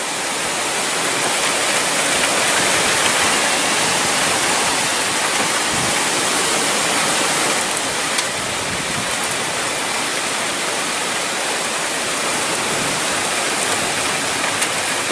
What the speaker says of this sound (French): Je ne sais pas si vous entendez bien le vent, mais c'est vraiment très fort.